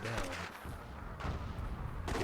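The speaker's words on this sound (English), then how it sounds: "Explosions are happening everywhere." Explosions and gunfire crackle across a WWII-themed Myth II Soulblighter tournament battle, with several sharp blasts bursting out at irregular intervals over a rumbling background.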